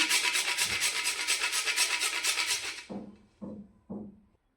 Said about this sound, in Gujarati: આ જાયફળ આપણું ખમણાઈ ગયું છે